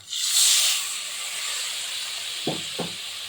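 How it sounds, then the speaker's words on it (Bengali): Soaked amchur water is poured into cooking poppy seeds in a hot pan, setting off a loud hiss that fades to a steady sizzle, with two brief low knocks near the end. "এখন আমি দিয়ে দিচ্ছি সেই যে আমচুর ভিজিয়ে রেখেছিলাম সেই জলটা"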